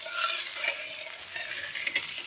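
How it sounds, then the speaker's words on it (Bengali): Spices being stirred into a watery egg curry gravy in a pan, a soft continuous scraping and stirring with a light simmering sizzle, close and steady, with no talking. "ভালো করে মশলাগুলো মিশিয়ে নিচ্ছি ঝোলের সঙ্গে।"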